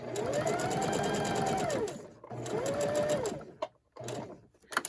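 A sewing machine stitches a Christmas table runner in two fast, steady whirring runs, followed by a few brief back-and-forth bursts of stitching close by, without talk.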